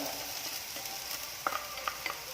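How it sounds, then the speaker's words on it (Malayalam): Sweet banana and coconut filling stirred in a pan, a low sizzling hiss with a few light spoon taps and scrapes, brief and close, no voices. "നന്നായിട്ടൊന്ന് മിക്സ് ചെയ്യാം."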